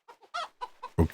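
A chicken in the Minetest MineClone2 video game clucks in quick, short bursts, five or six clipped notes ending in a louder, fuller cluck, near and alone.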